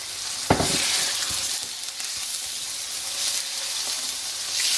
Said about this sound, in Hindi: चिकन को हम 5 मिनट तक फ्राई करेंगे।